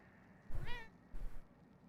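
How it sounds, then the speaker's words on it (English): A cat gives two short meows close to the microphone, the first a clear rising-falling call and the second softer and shorter, over a quiet room background. "what are you meowing about, big dog?"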